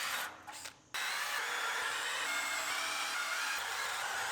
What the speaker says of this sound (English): Drill the spot welds out of the passenger side.